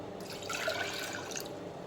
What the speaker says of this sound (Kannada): ಅರ್ಧ ಬೌಲ್ ಬೇಳೆಗೆ 2 ಬೌಲ್ ನೀರು ಹಾಕಿ